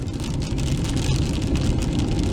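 Hail pelting a car on Greenhorn Mountain during a snow storm, a dense, continuous drumming and rattling on the body, loud and close with no break for the whole stretch.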